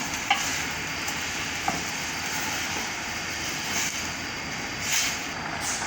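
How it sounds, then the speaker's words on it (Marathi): Gulamba, a raw mango and jaggery preserve, is sautéed and stirred continuously in a pan over a full gas flame, giving a steady broadband sizzle with occasional faint scrapes, no talking. "आता याला व्यवस्थित परतू परतू घ्यायचं गॅसची फ्लेम ही फुलच ठेवायची पण हलवत राहायचं त्याला सारखं"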